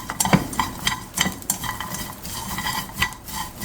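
Anchovies and nuts stir-fried in a pan for a Korean side dish, with a soft frying hiss broken by irregular scraping and clattering from the stirring utensil, close and without talk.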